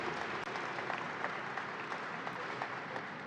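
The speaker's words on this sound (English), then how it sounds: "So, round of applause right there." Steady crowd applause fills the air at the opening of the New York State Fair, a dense, continuous wash of clapping from a large outdoor gathering, moderately distant and unbroken throughout.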